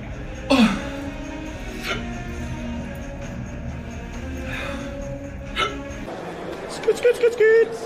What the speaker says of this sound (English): Oh no, I have the hiccups.